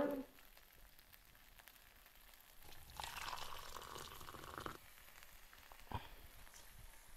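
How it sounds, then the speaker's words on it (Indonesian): Water poured into a pan while cooking fried noodles with egg, cheese and corned beef, a splashing, rushing burst in the middle of a quiet kitchen scene, moderately loud and brief. "Nah, ini kita masukin air secukupnya ya,"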